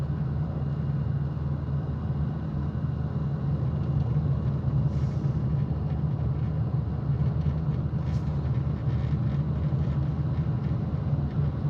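A 1975 VW Passat type 32 being driven, heard from inside as a steady low engine and road rumble, constant and unbroken throughout.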